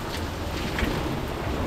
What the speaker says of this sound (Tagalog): ang lakas ng ulan dito mga kabisig